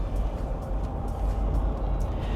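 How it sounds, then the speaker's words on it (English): INEOS Grenadier rolling over a relatively rough road, a steady low rumble of road and engine noise with soft bumps and knocks scattered through it, heard from inside the cabin. "we're going over some relatively rough road, and you might hear some of the bumps"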